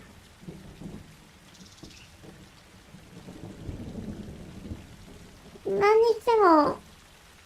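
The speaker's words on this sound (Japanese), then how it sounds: "なんか雨が降ってるっぽいから、やっと外には出れたのかな？" Rain falls in the stealth video game Republique, a faint, steady hiss with a low rumble, partly under brief speech and a high, childlike voice.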